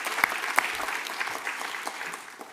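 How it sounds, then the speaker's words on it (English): An audience at a United States-Africa university partnerships summit claps for panelists, an even, continuous patter of many hands with a couple of sharper claps near the start. "I think our panelists deserve a round of applause."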